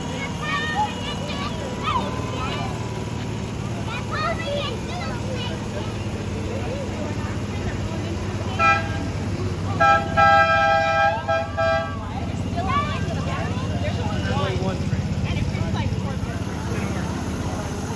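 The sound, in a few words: miniature GP38-2 diesel locomotive arriving, sounding horn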